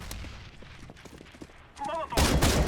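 Automatic rifle fire in CS:GO sounds out as rapid clustered shots, faint early under talk, then a loud sustained burst at the end; someone speaks in the middle.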